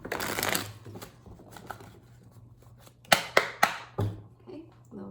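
Tarot cards riffle and shuffle in a soft rustling burst, followed by a few sharp slaps and taps as the deck is squared, with a low hum underneath.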